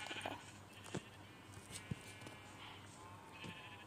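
Sheep bleat inside a crafting and building video game, several short bleats scattered across a few seconds at moderate volume over a faint ambient hum.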